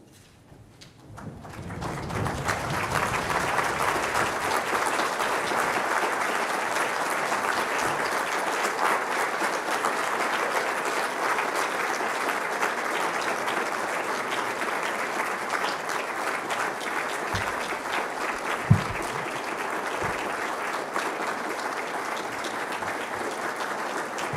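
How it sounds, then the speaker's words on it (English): A standing audience at a University of Liverpool graduation ceremony breaks into sustained, even applause that swells quickly from near silence and holds steady for over twenty seconds, with a brief knock partway through. "Please ask you all to stand and give a round of applause for your senior officers of the University of Liverpool."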